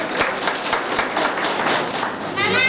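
Audience applause welcoming honoured guests at a Marathi poetry and ghazal gathering, steady clapping from a crowd that fills the whole moment without a break, fairly loud and even throughout.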